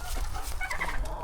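Chickens cluck in a pasture where a rooster is picking on the hens, a short burst of close, overlapping clucks and low fowl murmurs.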